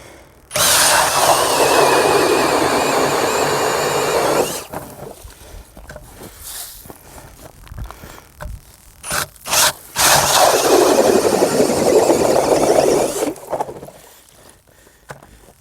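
Eskimo Pistol Bit ice auger boring an overlapping hole in ice, a loud grinding whir running for about four seconds, short scraping bursts, then a second long drilling run before stopping.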